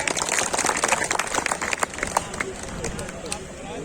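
Hearty crowd applause for a poet arriving at the microphone of an outdoor kavi sammelan held at a farmers' vegetable market in Unchahar, dense and steady, then thinning under a voice.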